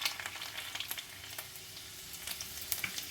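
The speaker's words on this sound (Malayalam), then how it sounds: "എന്നിട്ട് ഇതിനകത്ത് കുറച്ച് ഇത്തിരി 3-4 അല്ലി വെളുത്തുള്ളി ഇടും." Three or four garlic cloves frying in a pan, giving a quiet, steady sizzle with scattered crackles and pops, close by with no voices.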